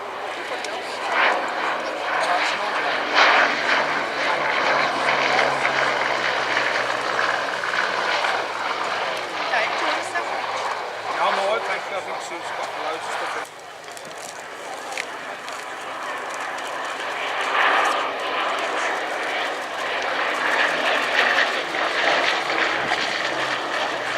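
A restored Bristol Blenheim twin-engine propeller bomber flies past at the RAF Cosford airshow, its engine drone rising and falling at a distance beneath a commentator's continuous talk.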